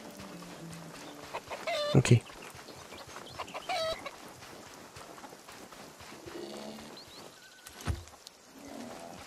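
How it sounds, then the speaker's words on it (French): Chickens in a video game cluck in scattered bursts at moderate level, with a sharper squawk near the start, while a player speaks briefly now and then. "Est-ce qu'il y a les poules là?"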